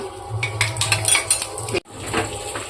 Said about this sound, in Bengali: কড়াইটা ঢেকে দিচ্ছি